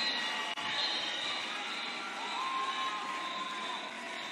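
An audience at a beauty pageant cheers and applauds, a dense steady wash of crowd noise with one faint whistling tone rising through it.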